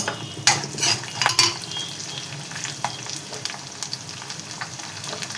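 Mustard seeds, dals, cashews, dried chillies and curry leaves frying in hot oil, a bright crackling sizzle with sharp pops and spatula clinks, loudest early and settling into a steadier hiss.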